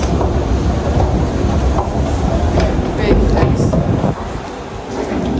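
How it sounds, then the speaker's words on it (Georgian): A metro train in Rome rumbles steadily nearby, a loud continuous roar with faint clattering, while voices murmur underneath. "აი ახლა მეტრო არის"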